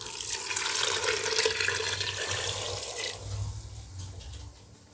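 Water pours into soaked rice in a pot while making channa pulav, a steady splashing stream that fades out near the end.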